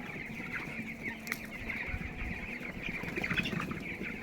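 Broiler chickens crowded in a cold-weather poultry shed cluck and peep continuously, with a brief wing flap or bump among the dense, steady flock noise.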